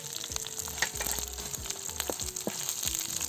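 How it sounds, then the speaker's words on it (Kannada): Chillies, garlic and coconut pieces crackle in a hot pan for coconut sambar, a close, busy sizzle with repeated scraping stirs and no talk. "ಕೊಬ್ಬರಿ ಚೂರು ಸ್ವಲ್ಪ ಫ್ರೈ ಮಾಡಿಕೊಂಡ್ರೆ ಸಾಕು."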